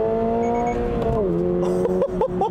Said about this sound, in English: this thing has a really nice noise to let you know that you need to shift.